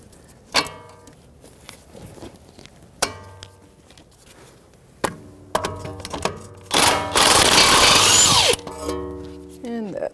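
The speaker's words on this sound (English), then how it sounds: "hopefully be able to use a socket and get that right off" Socket tool spinning off a sway bar link nut on a 2015-2024 Jeep Renegade, heard as short ratcheting bursts and then a loud sustained whir of a power tool near the end, with a voice talking between bursts.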